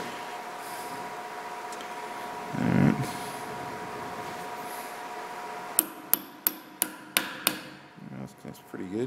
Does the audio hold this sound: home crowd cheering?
no